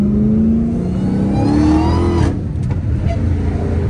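A Dodge Hellcat Redeye revs hard, its supercharger whine rising in pitch over the engine roar before easing off, followed by a few short sharp bursts, all loud and close without talk.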